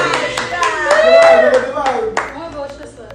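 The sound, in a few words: applause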